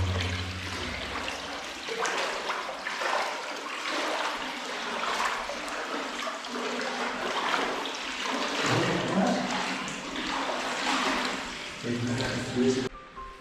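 Water pouring steadily from a spout into a healing spring pool in a village, a continuous splashing gush throughout, with people talking over it.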